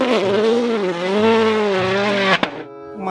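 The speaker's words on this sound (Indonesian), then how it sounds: "Mobil balap." A race car engine drones loudly and steadily for a couple of seconds, then a brief sharp squeal of tires cuts it off before the sound tails away.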